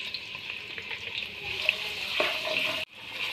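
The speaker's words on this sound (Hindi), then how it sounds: "अब इसे हम प्याज को लाइट ब्राउन होने तक फ्राई करेंगे।" A medium-sized onion with salt sizzles in hot oil in a pan, a steady, close frying hiss with faint stirring scrapes throughout and a brief drop near the end.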